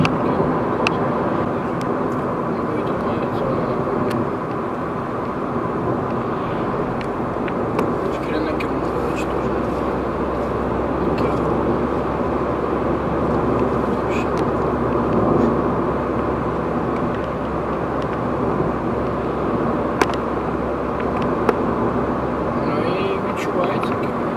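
Steady low road and engine rumble inside a Ford Fiesta 1.0 EcoBoost PowerShift cruising at 100 km/h on winter tyres, a continuous broadband drone with a voice talking over it throughout.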